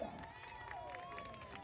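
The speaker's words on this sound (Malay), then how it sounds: "Kita lihat sorak-sorakan dari tifosi-tifosi Gede Gedung." Football fans in the stands cheer and shout at a local village match in Aceh, a dense crowd roar with whistles and higher voices layered on top, steady and fairly distant.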